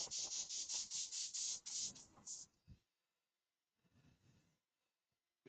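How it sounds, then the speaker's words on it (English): Woodturning piece being sanded to 240 grit, a series of quick rhythmic rubbing strokes up close for about two seconds, then stopping, followed by a few soft handling knocks and near silence. "So that is now sanded up to 240 grit."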